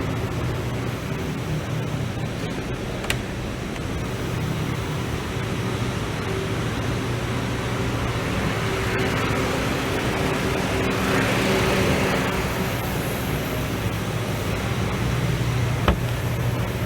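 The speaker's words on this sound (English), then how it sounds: "And the AC is blowing cold." Air conditioning blows in a 2007 Honda Civic, producing a steady, broad whoosh of airflow that fills the cabin at an even level, with a couple of faint clicks and no talking.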